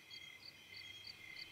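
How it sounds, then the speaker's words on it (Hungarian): Crickets chirp at night with faint, steady, evenly spaced high trills over a quiet background. "csak a tücskök éneke"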